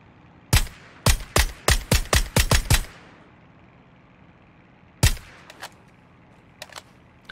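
Gunfire aimed at a glider in PUBG: Battlegrounds: a rapid string of about eight loud, sharp shots, then a pause, one more shot and a few fainter scattered cracks.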